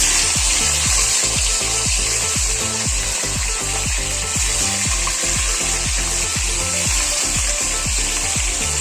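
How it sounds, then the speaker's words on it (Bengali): A rohu fish head frying in hot oil gives a loud, steady sizzle with dense crackling and spitting. It runs continuously and sounds close, with no talking. "তেলটা গরম হয়ে গেছে, এবারে আমি প্রথমে মাছের মুড়োটা ছেড়ে দিচ্ছি।"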